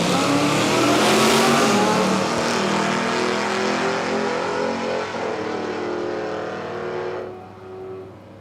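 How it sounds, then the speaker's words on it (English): A drag racing car, a Barracuda, launches and accelerates hard down the strip at Palmyra Raceway, its loud engine roaring and climbing before the throttle is rolled off early and the sound drops away. "You could hear him roll off the throttle early."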